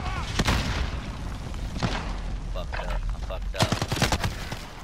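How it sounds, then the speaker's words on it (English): A grenade goes off in a Call of Duty match, bringing a burst of booming blasts and rapid gunfire. Loud, dense combat noise runs throughout while players talk over it. "I threw a nade!"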